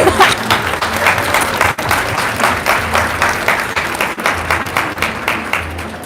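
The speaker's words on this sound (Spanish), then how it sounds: "I would love for you to clap for him" Audience at an event in Bolivia breaking into loud, sustained applause, a thick continuous patter of many hands clapping close by with no speech over it.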